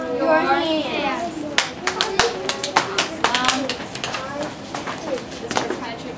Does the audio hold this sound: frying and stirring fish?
no